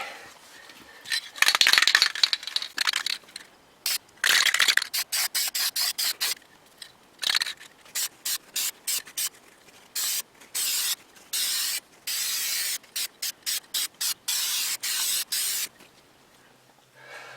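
Aerosol can spraying charcoal gray vinyl and fabric dye onto carpet in a 5.3 Firebird interior, a long hiss followed by many short bursts of spray, close and loud, with a faint can rattle.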